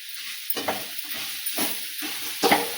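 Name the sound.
stirring radish stir-fry in a pan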